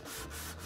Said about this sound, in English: Now just a lot of sanding. It's an awful lot of sanding to do.